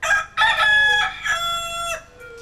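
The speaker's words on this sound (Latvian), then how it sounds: "Gailis. Gailis dzied." A rooster crows loudly and close, one long strained call broken into rising and falling segments over about two seconds.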